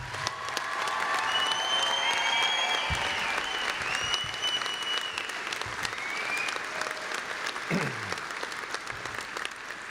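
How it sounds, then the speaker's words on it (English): Audience applause at a veterinary medicine white coat ceremony for a graduating class, loud and continuous, with a few cheers, whistles and voices rising through the clapping. "One more round of applause."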